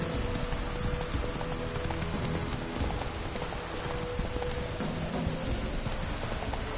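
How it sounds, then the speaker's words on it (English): Steady drizzling rain in The Witcher 3, a dense continuous patter of drops filling the scene at an even level throughout, with no voices. "Oh, it's drizzling."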